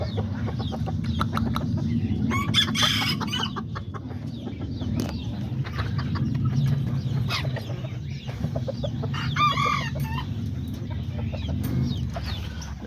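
Azteca and Serama chickens and a rooster moving about and clucking softly, repeated close, murmuring calls over a steady low background hum.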